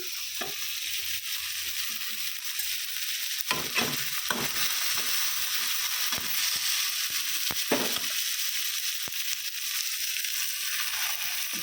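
Four beaten eggs hiss and sizzle in a hot pan for a quick egg bhujia, a steady high crackle broken by scraping stirs and clatters of the spatula; no voices.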